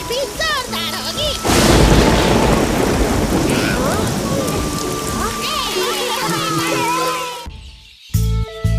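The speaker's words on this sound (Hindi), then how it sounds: "लगता है इस बार बारिश भी जोरदार होगी।" Heavy rain in a Chhota Bheem cartoon pours down in a dense, steady roar, joined by rumbles of thunder, then cuts off abruptly near the end.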